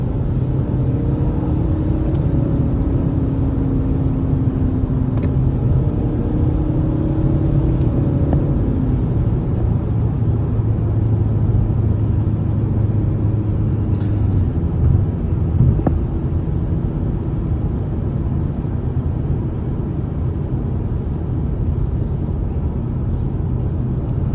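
Steady low rumble of engine and road noise inside a BMW car cruising on a night drive, constant and even throughout with no voices.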